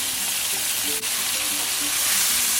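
A tomato salsa with a splash of fish sauce is stirred in a hot cooking pan, giving steady, close sizzling and frying with soft scraping stirs throughout.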